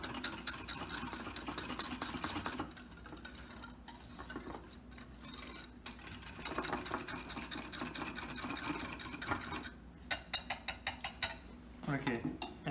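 Flan ingredients are stirred in a bowl with a utensil, producing continuous soft scraping and swishing, then a run of quick clinking taps against the bowl near the end, fairly quiet and close.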